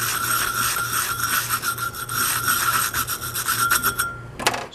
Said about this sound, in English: Then scrub it down, see if we can see any markings under there